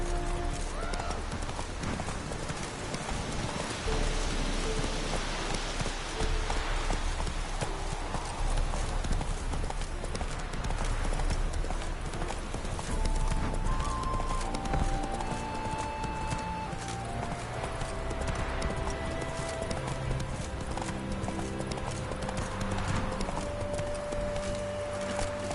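Roach, a horse in The Witcher 3, gallops with steady rapid clip-clop hoofbeats throughout, set against a constant game score and ambient sound, with brief faint voices in the background.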